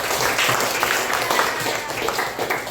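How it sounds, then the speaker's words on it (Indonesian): Schoolchildren applaud together in a classroom, a brisk burst of mixed clapping that stays fairly loud and busy before starting to thin out at the end. "Tepuk tangan lagi, Pak."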